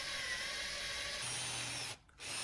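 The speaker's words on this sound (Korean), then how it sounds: "홈에 맞춰 3mm 드릴로 구멍을 뚫어 길을 내는데" A 3 mm drill bit bores through a motorcycle handlebar end on a Honda Rebel 500 (CMX500), a steady close whine that runs unbroken, briefly cuts out near the end, then resumes.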